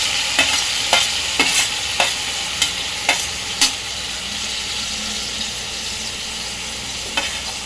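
Tomatoes and already-boiled potatoes fry in a pan with a strong, steady sizzle, and about ten sharp stirring clacks fall at a regular pace in the first four seconds, then one more near the end. Nobody speaks.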